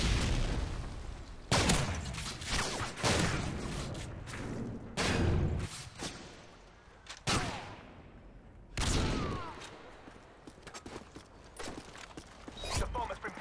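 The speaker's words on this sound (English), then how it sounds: "Stun grenade." Stun grenade and gunfire in a tactical video game: scattered sharp shots and heavy thumping blasts, one strong burst near the middle, spaced irregularly with quieter pauses between.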